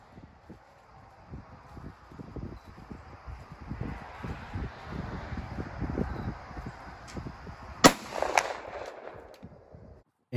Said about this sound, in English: I'm shooting the regulation cartridge as laid out in the 1861 Ordnance Manual